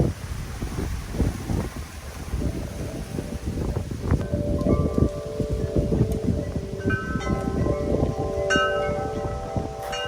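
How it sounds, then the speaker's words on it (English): Cold, gusty wind buffets the microphone outdoors in 61-degree weather, a steady roar with rising and falling gusts throughout, and faint scattered tones appearing in the latter half. "it's a bit windy and cold here"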